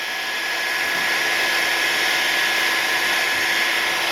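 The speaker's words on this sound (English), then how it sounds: "I have a heat gun here. It's a low power heat gun." A low-power heat gun blows hot air for an iPhone 6 Plus cracked screen repair, giving a steady, fairly loud whirring hiss with a constant fan whine that holds unchanged from start to finish, alone without talk.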